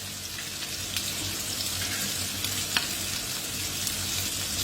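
Butter and oil sizzle in a pan while cooking osso buco, a soft continuous frying hiss with a few faint pops and light clicks of utensils.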